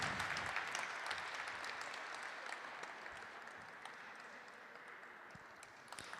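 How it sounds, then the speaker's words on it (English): Sustained applause from a graduation audience at an MBA ceremony, a dense wash of many hands clapping steadily and fading slightly toward the end, with no talking over it. "A round of applause."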